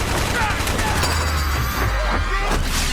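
Gunfire in the Call of Duty Black Ops video game: dense, continuous bursts of shots and booms filling the scene, loud and close with no pauses.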